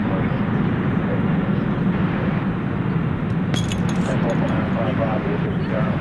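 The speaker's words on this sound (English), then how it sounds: "An Airbus A321." An American Airbus A321 airliner arriving at DFW at night gives a steady, loud broadband engine roar that holds throughout, with a brief hiss of higher noise midway.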